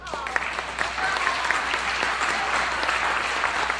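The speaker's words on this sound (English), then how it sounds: "I'd like to give applause for that." Steady audience applause at a Rocky Horror Picture Show fan panel with the cast, filling the room at an even level for the whole stretch, with some voices and cheers mixed in.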